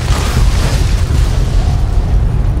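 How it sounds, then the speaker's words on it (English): Loud, dense rumbling explosions in the video game Fallout: New Vegas roll continuously, deep booming bursts layered into a constant roar with no pause. "Why are there so many explosions?"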